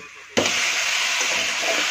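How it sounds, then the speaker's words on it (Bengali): Papaya, potato and mixed vegetables sautéing in a hot pan with oil, a steady, close sizzle that starts abruptly and holds evenly throughout. "আলু পেঁপে সবজির সাথে ভালো করে এভাবে কষিয়ে নিতে হবে 1-2 মিনিট"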